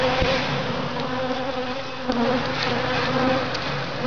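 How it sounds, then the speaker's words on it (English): Bees buzzing steadily and close by around a beehive, a thick droning hum with individual insects swelling louder as they pass near. "get rid of all these bees"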